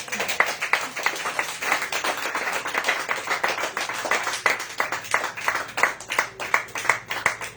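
Church congregation claps, loud and close, in a dense series of sharp hand claps that rise and fall in bursts.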